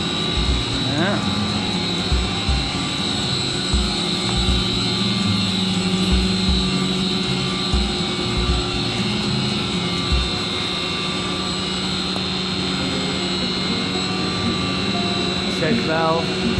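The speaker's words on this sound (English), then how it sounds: "just the sound of the pumps alone, just oh man, what a beautiful sound" Pumps in commercial HVAC equipment run with a steady mechanical drone and a constant tonal hum, loud and close, while a person talks intermittently over them.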